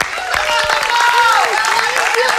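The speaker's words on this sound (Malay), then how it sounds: "Alright, tepukan untuk Adira" A studio audience on a television game show claps under a host's talk, with music or vocal tones running over the applause.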